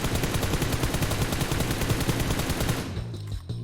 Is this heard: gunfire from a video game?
yes